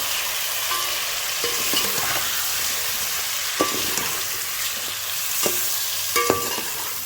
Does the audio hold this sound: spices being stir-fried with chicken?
yes